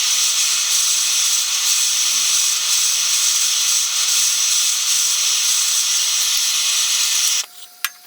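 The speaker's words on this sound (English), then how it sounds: "then I'm going to take it and quench it in the Park 50 oil" A hot steel knife blade plunged into Park 50 quenching oil gives a loud, steady, close hissing roar that holds for about seven seconds, then cuts off abruptly, followed by a faint tone and a single sharp click.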